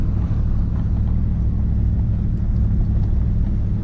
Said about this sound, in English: He's got the truck on.